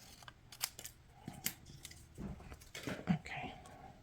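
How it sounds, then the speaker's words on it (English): Scissors fussy cut paper for a Stampin' Up! fun-fold card, with several close, crisp snips at irregular intervals and light rustling of the handled paper between them, with no talking. "let's fussy cut this out"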